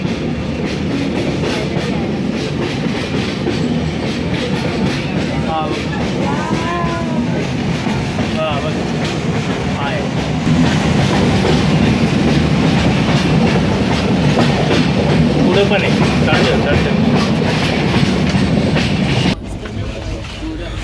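A train near Dudhsagar waterfall rolls along with a steady rumble and rhythmic clatter of wheels, some faint squeals, and a brief spoken remark over the noise.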